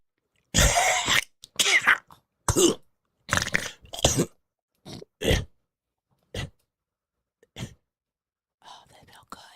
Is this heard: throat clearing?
yes